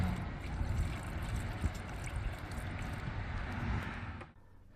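Antifreeze trickles steadily through a coffee filter at a roadside stop, a continuous watery dribble holding for about four seconds before cutting off abruptly near the end.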